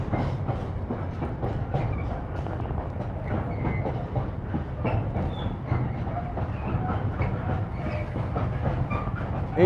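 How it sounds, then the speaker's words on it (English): A long freight-style train of about 40 carriages rolls past on the track, loud and close, its wheels beating a steady clickety-clack rhythm over the rail joints with faint metallic squeals, continuous for the whole stretch. "that train is still going. That's got to be about 40 carriages, I reckon."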